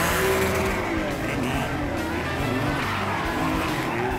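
A car spins donuts with tires skidding and squealing over a loud, continuous engine roar, close up; some voices come through faintly under the noise.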